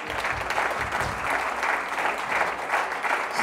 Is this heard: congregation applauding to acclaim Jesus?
yes